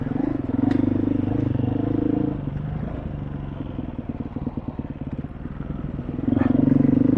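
A dual sport motorcycle riding over soft, wet dirt, its engine droning loudly and close, easing to a chugging, lumpy idle-like rhythm mid-ride before revving up again at the end.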